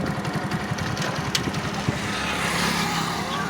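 A motorcycle engine putters steadily at moderate distance on a rural road, a low rhythmic chugging that grows slightly fuller toward the end, with no talk.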